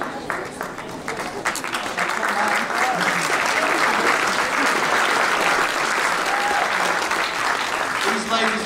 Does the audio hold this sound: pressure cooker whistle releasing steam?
no